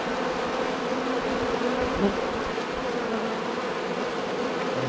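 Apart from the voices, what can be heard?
honey bees buzzing around a hive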